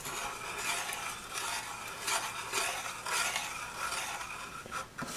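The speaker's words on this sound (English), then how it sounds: "Get out the wooden spoon or something like that, and then just give it a good stir." A wooden spoon stirs carrot cake batter in a bowl, giving a continuous, fairly quiet rasping scrape with a loose rhythm of strokes and no talking.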